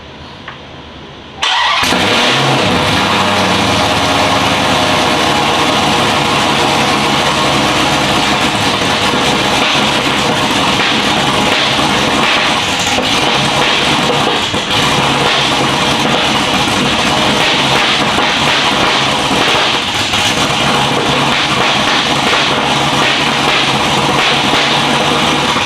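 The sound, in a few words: Dodge Hellcat engine starting and revving loudly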